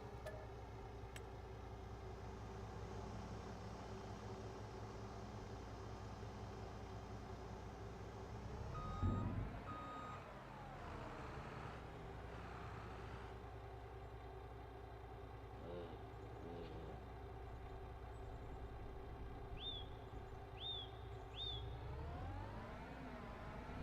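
A tractor engine in Farming Simulator 25 drones steadily and evenly for the whole stretch, with a brief rise in loudness midway and a few faint beeps late on.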